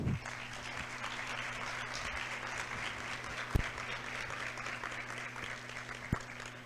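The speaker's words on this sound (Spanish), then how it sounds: "La recibimos con un fuerte aplauso." An audience at a technology conference applauds to welcome a speaker, a steady spread of clapping at moderate distance with a few sharp louder knocks standing out along the way.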